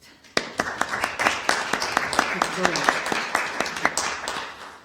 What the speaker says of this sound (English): please could I ask everyone to give Justina a round of applause